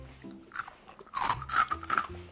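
Crunchy fried banana, a Thai dessert fried in oil, chewed close to the mic in a few loud crisp bites with quiet gaps between.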